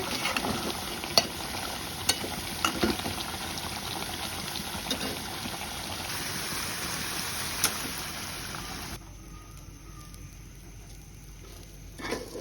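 Polao rice fries in a pot while being stirred, producing a soft, steady sizzle with scraping stir strokes and small clicks, growing quieter toward the end.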